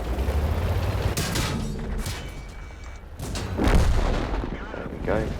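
Tank cannons fire in the video game World of Tanks, with several heavy booming shots and rumbling impacts in quick succession.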